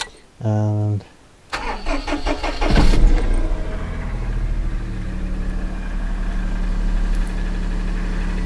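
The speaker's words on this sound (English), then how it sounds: "So we shall do a cold start." A Daihatsu Charade starts from cold after a brief spoken word, the starter cranking for a second before the engine catches and settles into a steady, slightly tappy idle close by.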